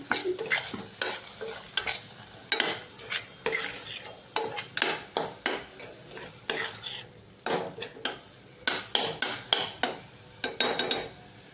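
A spoon or spatula stirs spices as they roast in a pan, scraping and clinking against the metal in a steady run of sharp, close strokes over a low sizzle, with no talking.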